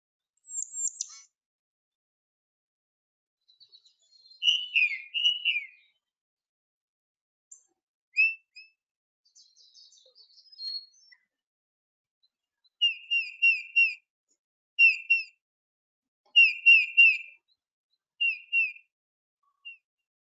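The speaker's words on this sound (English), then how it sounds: "Now, moving on to their regular calls, those sound like they're saying, Peter, Peter, Peter." A backyard songbird gives its regular whistled call, a repeated two-note 'Peter, Peter' phrase in short clear bursts separated by pauses, fairly near and alone in a quiet setting.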